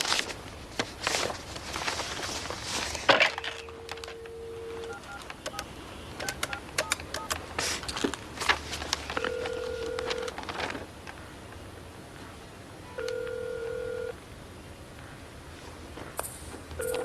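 Push-button telephone dialing: a series of distinct steady tones sounds among handling clatter and footsteps, with several longer held tones later on, all fairly close and moderately loud.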